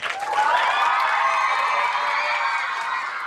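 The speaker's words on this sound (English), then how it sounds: "If you're wondering what all the cheering is about," A large crowd of children cheering and shouting at a book-author event: a loud, sustained wall of high-pitched voices that swells early and holds steady throughout.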